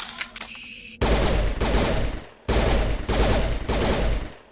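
Rapid automatic gunfire in the Mass Effect video game, four loud sustained bursts separated by brief pauses, following a short stretch of quieter game sounds.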